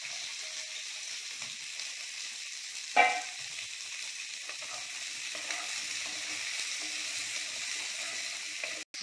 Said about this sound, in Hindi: हमारे कैप्सिकम, बेल पेपर और प्याज भी हमारे सॉटे हो गया।